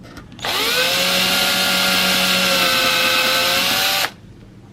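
A power drill runs through the solid platform of a scratch-built model railway, making a single sustained high whine of about three and a half seconds that starts and stops abruptly, close and loud.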